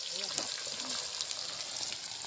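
Spices mixed with ginger-garlic paste fry in a pot at an outdoor picnic beside a dam, giving a faint, steady hiss with a soft voice briefly heard over it.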